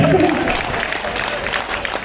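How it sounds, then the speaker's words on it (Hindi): An audience at an evening Hindi poetry recital gives dense, continuous applause. It sounds loud and close, with some crowd noise mixed in. "जोरदार ताली बजाए।"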